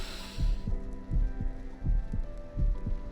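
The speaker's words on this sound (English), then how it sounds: "The heart beating." Heartbeat sound effect in the horror game Reverse: 1999, a steady series of about eight deep, thudding low beats in paired lub-dub rhythm, loud and close over a low hum, with no voices.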